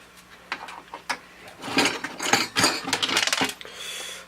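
Metal washers falling out of a TI-99/4A home computer during a teardown clink and jingle against hard surfaces, a few separate close taps followed by a denser rattling cluster.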